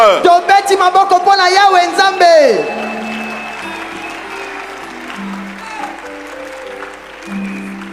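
A church congregation applauds at a New Year's worship service, with a clapping patter mixed under a loud voice at first, then lighter ongoing sound as the voice stops.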